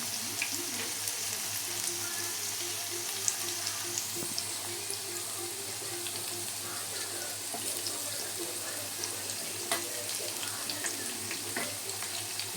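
Corn pakoda frying in hot oil, a steady dense sizzle and crackle with a faint low hum beneath, continuous throughout with no talk.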